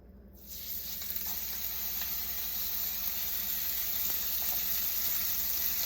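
Steak dropped into a hot frying pan bursts into a loud, steady sizzle almost at once, a dense hiss that holds evenly to the end with no talking.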